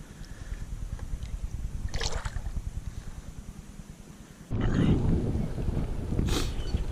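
Strong wind buffets an open-water kayak during a fishing tournament, a steady low roar of gusts across the microphone with brief splashes and a louder surge partway through.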